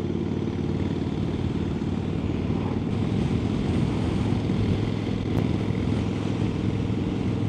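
A Harley-Davidson motorcycle cruises at a steady pace along a Wiltshire country road, its low engine rumble droning evenly and continuously, mixed with wind noise from riding.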